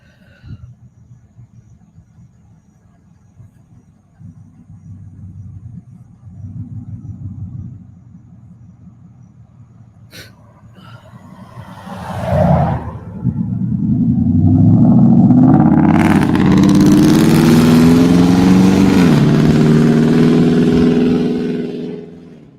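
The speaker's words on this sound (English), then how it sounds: "Sometimes we have trucks come out of there" Heavy road traffic rumbles past, a low engine drone that builds from faint to a loud, sustained roar in the second half, with gear-like tonal whine rising over the top, consistent with trucks and cars going by close.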